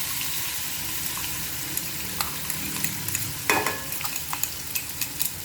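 Green chili thecha hits hot oil already holding mustard seeds, cumin and a pinch of hing, giving a steady crackling sizzle with scattered pops and one sharper spatter burst midway, close and fairly loud, with no talking.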